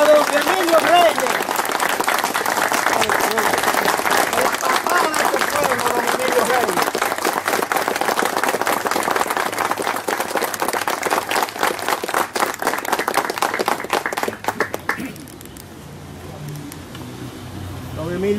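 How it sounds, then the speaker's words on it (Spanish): Standing ovation for an honored guest at a reunion gathering: dense, sustained applause from a large crowd fills most of the clip, then thins out abruptly near the end as voices emerge. "vamos a hacerle un aplauso de pie a don Emilio Reyes."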